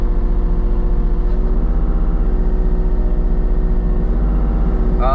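A Kubota mini excavator engine strains steadily as the machine, facing downhill and stuck in frozen mud, drags a shed. A loud, continuous diesel drone with a rough, droning hum holds close and unbroken throughout.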